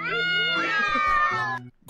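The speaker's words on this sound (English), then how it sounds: "That is a cat struggling, fighting for its life." A distressed cat lets out one long, loud, close yowl that wavers in pitch for about a second and a half, then cuts off abruptly.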